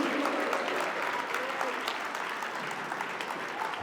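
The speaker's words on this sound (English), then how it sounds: "A big round of applause for Shrevan" Steady, sustained applause from an audience fills an award ceremony at a foundation's finals, dense and even from start to finish.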